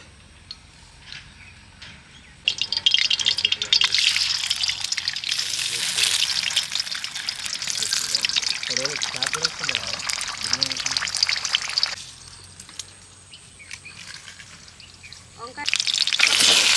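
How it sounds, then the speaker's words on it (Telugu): Oil pours into a hot kadai and breaks into a loud hissing sizzle that holds steady, then drops and flares again, while a person speaks over part of it. "నూనె పోసుకోండి మళ్ళీ ఒకసారి"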